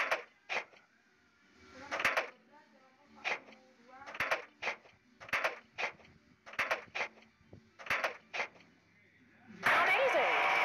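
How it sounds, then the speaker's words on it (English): A cartoon power drill whirs briefly in a children's house-building game, a dense buzzing burst at the end after a run of short, choppy game sounds and a voice. "Drill."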